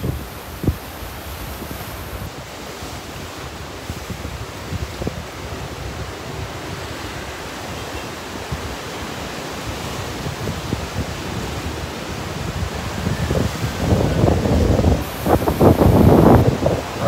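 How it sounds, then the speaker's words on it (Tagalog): Strong surf at high tide on White Beach, Boracay, with steady wave wash and wind buffeting the microphone, the breaking waves swelling louder and closer near the end. "Malakas pa rin yung alon. At saka high tide ngayon."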